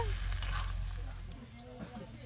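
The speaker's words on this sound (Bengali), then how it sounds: "একটু খন্তি দিয়ে নাড়িয়ে মিক্সড করে নেবো" A spatula scrapes and stirs vegetable chop filling in a hot pan, giving a low, soft sizzle and rustle that fades after the first second, with faint voices behind it.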